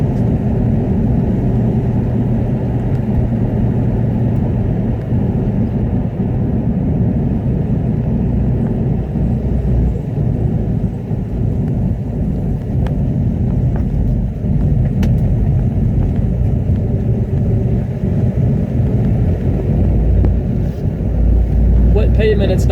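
A 1966 Ford Mustang Coupe drives a wet, twisty road on skinny tires, its engine a steady low rumble with tire hiss, continuous and close from start to finish.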